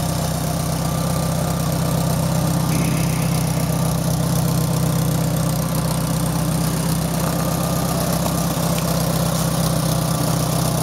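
A 1973 IH Farmall 140 tractor engine idles steadily with a deep, even low-frequency drone and constant vibration that stays close and loud throughout, with no voices.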